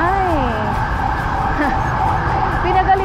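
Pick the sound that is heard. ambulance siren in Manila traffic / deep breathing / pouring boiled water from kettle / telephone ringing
ambulance siren in Manila traffic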